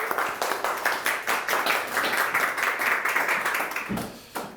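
A library audience applauds to welcome a guest speaker, steady dense clapping from a roomful of people that fades out near the end, with no talking over it.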